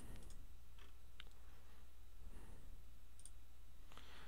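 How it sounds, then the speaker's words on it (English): Sparse computer mouse clicks while drawing wargame counters in design software, a few short, quiet ticks scattered across a faint room hiss with no talking. "then right clicking to terminate that line."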